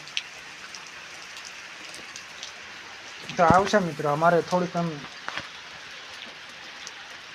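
Steady rain falls on a farm in a broad, even hiss throughout, with someone talking briefly over it in the middle.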